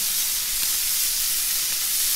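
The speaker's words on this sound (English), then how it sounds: "Nothing like some bacon sizzling cheeseburgers." Bacon and cheeseburgers sizzle on a grill with a steady, close, loud hiss and crackle that never lets up and has no talking over it.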